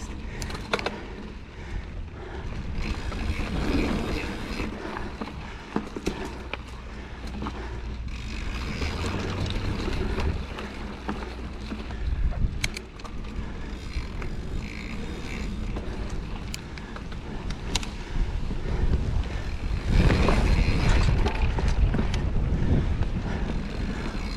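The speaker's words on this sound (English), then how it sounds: "A little windy up here on top of the ridge." Gusty wind buffets the microphone on an exposed ridge top during a mountain bike trail ride at Loyce Harpe Park, a steady roaring rush with rattles and creaks, swelling louder near the end.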